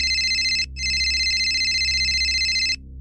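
A telephone rings with a steady electronic trill, two bursts separated by a brief gap, loud and close.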